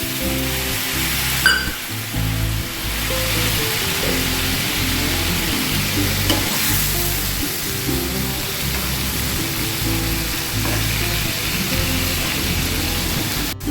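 Water from frying fish is poured into a hot kadai for Bengali-style fish curry, setting off a loud, steady broadband sizzle that carries on for the whole stretch.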